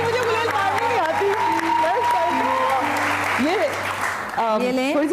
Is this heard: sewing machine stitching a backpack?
no